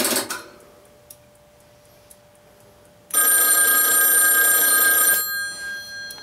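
An old step-by-step telephone switch gives a few faint mechanical clicks after dialing, then a loud, bright telephone bell rings continuously for about two seconds before cutting off.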